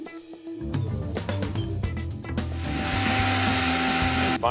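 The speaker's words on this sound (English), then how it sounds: "Hammer and chisel." Hammer and chisel strike and scrape tar off the underside of a 1961 Chevy C10 Apache truck, a quick series of sharp knocks and scraping, then a steady loud hissing rush that fills the rest.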